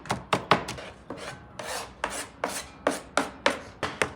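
Two knives chop tomatoes on a board in a steady run of sharp, close taps, about three per second, with no talking.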